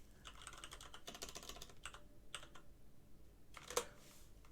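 Quiet typing on a computer keyboard at a music production desk, a quick burst of soft key clicks followed by a few scattered taps and one sharper click near the end, close and faint with no voices.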